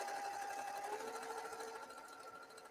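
A sewing machine stitches steadily through distressed fabric just inside a half-inch seam allowance, with a continuous close, even motor hum and rapid needle chatter.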